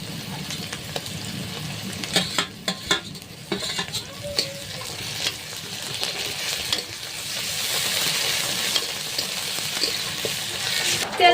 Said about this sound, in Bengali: এবার রসুন বাটাটা দিয়ে দিচ্ছি আর একটু আদা বাটা দিয়ে দেবো